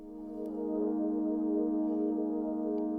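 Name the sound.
synth pad holding one note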